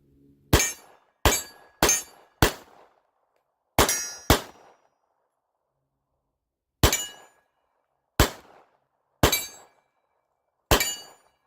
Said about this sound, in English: shoot some 145 grain Acme reloads